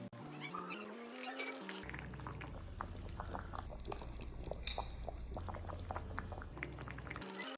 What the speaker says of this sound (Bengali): ঝোলটা ফুট ধরতে শুরু করেছে